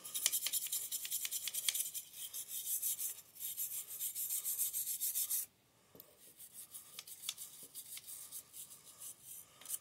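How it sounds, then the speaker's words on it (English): A number 3 Duke steel trap is scraped hard with a tool, producing a harsh, continuous rasping close by that runs in long strokes, stops abruptly, then resumes more softly and in shorter bursts, with no talk. "I got this number 3 Duke here. I'm going to scrape it."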